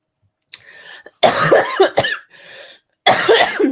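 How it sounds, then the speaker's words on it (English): Harsh, raspy coughing from a single person, with bursts that come in several clustered fits separated by short pauses, close and loud. "I'm going to cough now because every night I start coughing"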